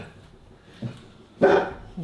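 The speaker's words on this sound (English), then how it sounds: "What's Stella barking at?" A dog named Stella gives a couple of short barks at an Alaskan log cabin building site, with a soft bark followed by a louder, sharper one, fairly close, and no talking.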